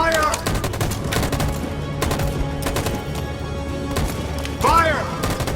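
Gunfire from a firing squad in Detroit: Become Human, loud overlapping bursts of shots with ringing echoes, in a couple of volleys over a short stretch.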